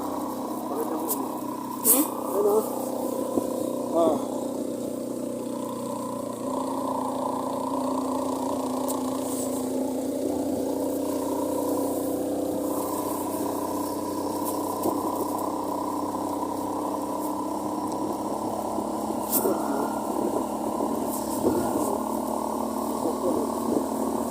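A motorcycle engine labours steadily uphill on a mountain road toward a viewpoint in Aguinaldo, Ifugao, its low droning hum continuous and close, with faint wind and scattered knocks.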